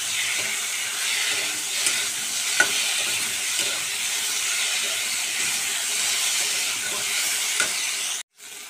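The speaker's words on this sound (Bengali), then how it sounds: "দেখুন আলু আমার ভাজা হয়ে গেছে" Potatoes fry in a pan with a constant loud sizzle. Occasional stirring clicks and scrapes of a utensil cut through the hiss.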